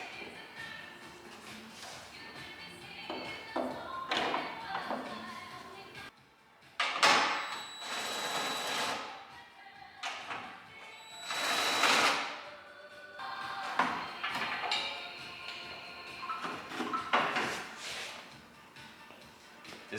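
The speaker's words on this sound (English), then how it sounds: "I'm actually gonna start by taking the bumper off just to get more access up here." A fiberglass bumper is worked off a Honda Civic in a garage with bursts of scraping, rattling and knocking, including a few loud grinding stretches, separated by quieter pauses.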